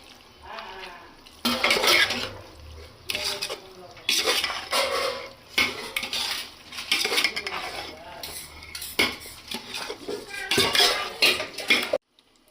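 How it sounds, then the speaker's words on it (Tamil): Cooked mutton pieces being stirred with masala in a metal pot for a homemade seeraga samba mutton biryani, with repeated loud scraping and clanking of a spoon against the pot in bursts, no talking. "கறியும் மசாலாவும் நல்லா மிக்ஸ் ஆகிற மாதிரி நல்லா கிளறி விட்டுக்கோங்க."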